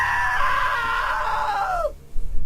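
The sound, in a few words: scream in video game What Remains of Edith Finch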